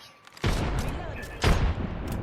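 Wingman pistol in Apex Legends firing in single fire mode: two heavy, separate shots about a second apart, each with a booming tail, loud and close.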